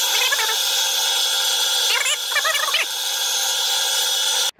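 A power drill bores into an unexpectedly hard turbocharger component during a repair on an L405 Range Rover, giving a steady loud grinding whine broken by squealing, wavering pitches as the bit bites.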